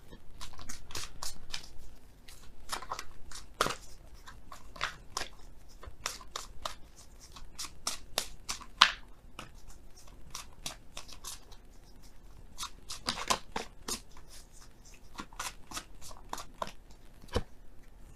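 Oracle cards being shuffled, a long run of crisp papery slaps and riffles coming in quick irregular bursts, close and fairly quiet, with no talking.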